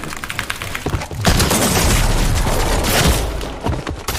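Fortnite match gunfire: a loud, dense burst of booming shots and rapid automatic fire, preceded by scattered single cracks.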